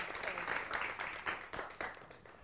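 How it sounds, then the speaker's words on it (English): An audience gives a round of applause at a leadership forum, a fairly soft, steady patter of many hands clapping with slight swells throughout. "Give them a round of applause"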